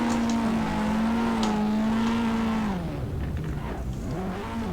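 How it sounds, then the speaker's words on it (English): Drift car in the Assetto Corsa sim racing game, a loud sustained engine drone holding steady, then dropping in pitch as revs fall, with faint tyre noise, alone without talk. "that car's audio is so loud."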